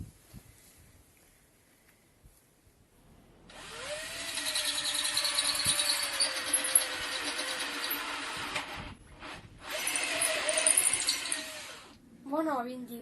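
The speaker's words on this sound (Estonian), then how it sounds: "Vana vindi puurisime välja." Power drill bores out an old stripped thread in an aluminium part to take a steel helicoil insert, a steady whirring run of several seconds, a pause, then a second shorter burst, fairly close and moderately loud.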